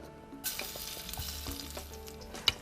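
Crushed garlic dropped into hot oil sizzles and fries steadily in a pan, a close, continuous crackle with a few brief clatters and stirring sounds, without any voice.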